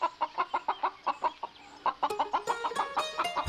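A hen clucks in a quick, steady run of short notes at close range. Later the clucks grow busier and more excited, with a few sharper squawks near the end, and no one speaks.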